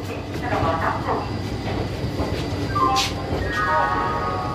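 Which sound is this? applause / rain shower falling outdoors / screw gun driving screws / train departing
train departing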